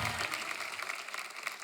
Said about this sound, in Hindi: जोरदार तालियां कृति के लिए